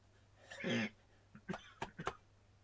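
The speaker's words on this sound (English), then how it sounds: "The change in seasons is giving me a horrible cough." A person gives one harsh, drawn-out cough followed by a quick series of four shorter coughs and throat-clearing bursts, close to the microphone and otherwise quiet.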